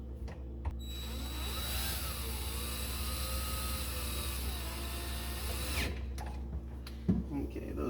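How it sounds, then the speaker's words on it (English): A power drill drives screws into a part of a GE Cafe style refrigerator, model CYE23TSDCSS, with a close, steady whine that rises and falls in pitch for several seconds before stopping, followed by brief handling clatter. "Try to be very careful with a drill not to over tighten the screws."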